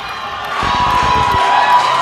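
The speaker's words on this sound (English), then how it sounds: "Oh, this crowd wheeling him to his feet." A wrestling arena crowd roars and cheers, the noise swelling loud and sustained with shouts and whoops rising through the hall.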